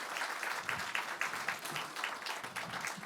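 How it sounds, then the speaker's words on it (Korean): Lawmakers clapping in unison at a Korean party caucus meeting to approve a committee chair unanimously, a moderately loud burst of rhythmic, pulsing applause from a roomful of people. "의원님께서는 이의가 없으시면 만장일치로 박수로 동의해 주시기 바랍니다."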